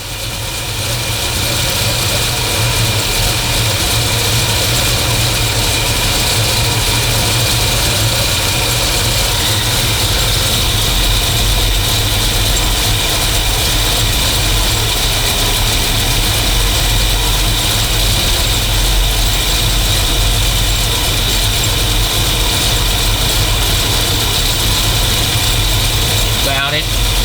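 A car engine with a high lift cam idles roughly and loudly at close range, its lumpy, uneven rumble running steadily throughout with a voice talking over it.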